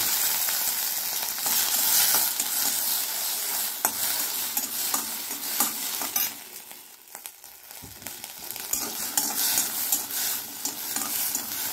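Turkey berries sautéing in hot oil in a pan for a chutney, a steady broad sizzle with stirring scrapes throughout, briefly quieter near the middle before the frying hiss returns.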